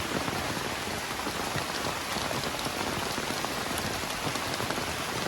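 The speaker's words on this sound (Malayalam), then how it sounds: "എന്താ മഴ കൂടി കേട്ടാ?" Heavy rain pours down in a constant, dense roar of drops drumming on surfaces, loud, close and unbroken throughout.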